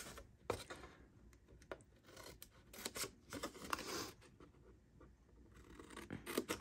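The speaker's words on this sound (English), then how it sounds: "now we're gonna take our scissors and we're going to snip these score lines right here in the middle" Scissors snipping score lines on a paper treat box, with a quick run of close, crisp cutting and scraping strokes that repeat unevenly, fairly quiet, with no voices.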